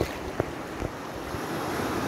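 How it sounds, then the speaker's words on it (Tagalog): Rough sea waves wash continuously against the shore at a beach in Vieste, with steady surf noise and wind buffeting the microphone and no talking. "at maalon pa rin ngayong araw na ito"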